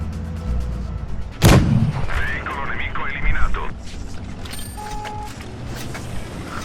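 Tank cannon fire in the mobile game World of Tanks Blitz, one loud booming shot with a rumbling tail over steady game noise and someone talking.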